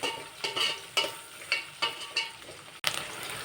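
Green chillies frying in a pan for chicken pulao, close sizzling with a series of rhythmic stirring scrapes about every half second, fairly quiet overall.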